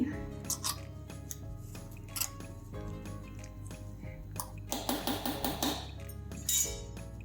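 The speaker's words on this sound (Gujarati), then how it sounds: "આ બધો જ મગફળીના ભૂકાને આમાં મિક્સ કરી દેવાનો છે ચમચીની મદદથી" A spoon stirs crushed peanuts into a bowl for green chutney, giving a few light clinks and scrapes in the latter half over steady background music.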